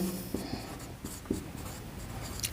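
Chalk or marker scratches across a classroom board in short, irregular strokes, a brief dry scraping rhythm under light room noise.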